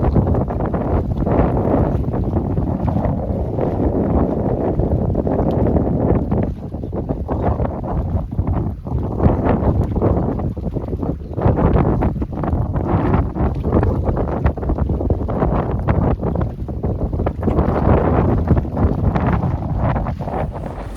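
Strong wind buffets the microphone continuously in a rough, roaring rush at a carp fishing spot, with steady gusty noise throughout and no voices.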